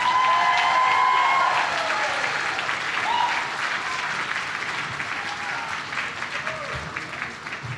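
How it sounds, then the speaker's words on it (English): Applause for a graduating medical school class at a Match Day 2026 ceremony, a loud, steady clapping crowd that eases slightly over the stretch, with some faint voices mixed in. "One more round of applause for the class of 2026."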